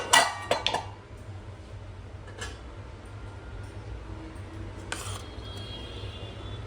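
A cooking pot of biryani rice is opened: sharp metallic clanks of the lid at the start, then a quiet low hum with a couple of brief clinks.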